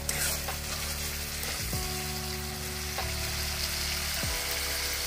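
Spices and yogurt sauté steadily in a hot pan for rohu fish curry, a continuous close sizzle with a few brief stirring scrapes and no talking.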